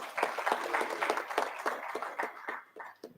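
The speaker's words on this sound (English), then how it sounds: "A big clap for Dr." Conference audience clapping for a speaker after a talk, a modest round of distinct claps from a smallish crowd, fairly close and brief.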